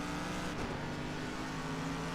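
A race car engine roars during a race, a loud steady drone that holds at an even pitch throughout with no breaks and no voices.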